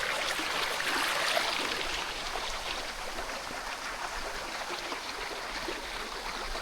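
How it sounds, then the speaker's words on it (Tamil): Stream water flowing along a forest trek trail, a steady close rushing and gurgling wash that continues without a break, with no voices over it. "பாருங்கள் தண்ணி ஓடுது."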